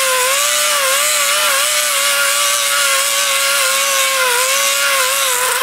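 An 80 grit roll lock disc sanding down a weld bead on metal, a steady continuous abrasive whine with a sustained tonal ring, loud and close, running without a break and with no talking.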